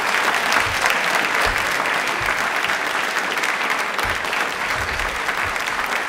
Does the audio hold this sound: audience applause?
yes